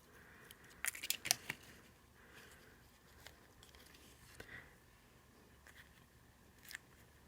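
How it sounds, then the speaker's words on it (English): Scissors snip away part of a paper craft piece with a few quiet, close cuts clustered near the start, followed by scattered faint paper rustles and clicks against near silence. "And again, I'm cutting away part of this."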